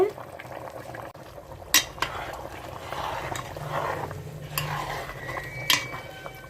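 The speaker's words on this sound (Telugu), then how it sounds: "మరుగుతుందండి పులుసు" A pot of prawn, egg and okra curry boils on the stove, giving a steady, close bubbling hiss punctuated by a few sharp metallic clinks of a lid or utensil.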